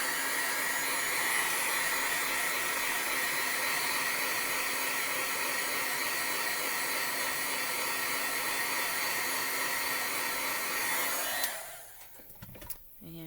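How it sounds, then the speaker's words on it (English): A heat gun blows a loud, steady hiss and whoosh while heat-setting stamp ink, running continuously up close before cutting off near the end. "I'm going to heat set this a little bit."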